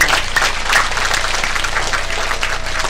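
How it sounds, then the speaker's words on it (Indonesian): An audience claps at an evening temple anniversary gathering, a full, continuous roll of applause that stays close and steady throughout over a low background hum. "Tepuk tangan untuk kita semua."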